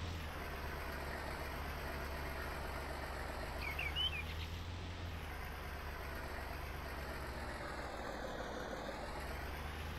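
An old John Deere tractor engine in Farming Simulator 19 drones at a steady, low, even rumble throughout, quiet and continuous with no voices over it.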